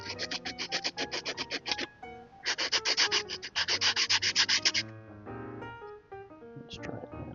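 A plywood edge sitting proud of cork is sanded down by hand in quick back-and-forth strokes: two rhythmic bursts of rasping rubs separated by a short pause, close and steady, then fainter scraping at the end.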